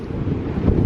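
Wind buffeting a microphone at Crosby Beach on the sea shore, a heavy low rumbling roar that gusts louder toward the end, with no speech.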